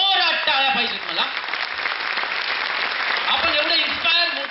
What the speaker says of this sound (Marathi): सरांसाठी जोरात टाळ्या पाहिजेत मला.